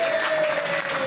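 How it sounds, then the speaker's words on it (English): Audience at a Toastmasters public speaking meeting claps steadily in a brief, dense burst of applause, fairly close and even in loudness throughout, with a faint steady tone running underneath. "Give her a round of applause, please."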